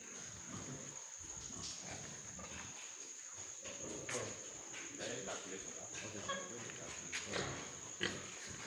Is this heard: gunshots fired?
no